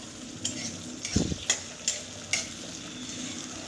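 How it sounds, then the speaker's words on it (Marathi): Tomatoes and green peas stir-fried in a pan with onion for upma: a light sizzle broken by several sharp spatula scrapes and knocks against the pan, close and clear, with no talk. "टोमॅटो पण छान असा याच्यामध्ये परतून घ्यायचा यातच आपण घालणार आहे ओला मटार"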